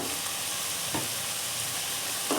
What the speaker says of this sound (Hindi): अब हल्का से आप भूनें।